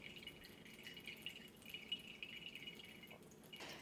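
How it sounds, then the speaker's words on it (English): Water drips and trickles from twisted pumpkin puree being squeezed, a quiet, steady wet patter with small splashy drops close by, no talking. "look at the water coming out."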